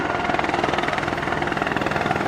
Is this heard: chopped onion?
no